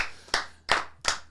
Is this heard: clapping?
yes